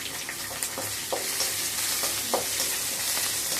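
Steady sizzling of onions frying in a pan for a tempering, with a few soft scrapes and stirring clinks over the continuous crackle.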